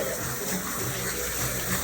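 Water runs steadily from a salon sink sprayer while hair is rinsed after foil highlighting, a soft continuous hiss and splash heard close and fairly quiet, with no talking.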